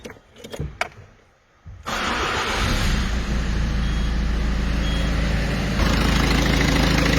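A Peugeot engine with an overtightened timing belt starts after a few clicks and handling noises, then runs steadily with a loud, continuous idle drone and a faint whine.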